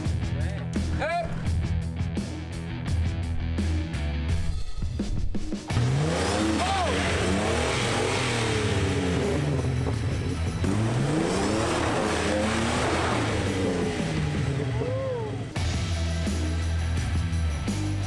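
A Jeep Wrangler engine revs hard off road in the Ahipara Gumfields of New Zealand, with repeated rising and falling surges as it crawls over obstacles, loud and close, while people's voices come and go over it.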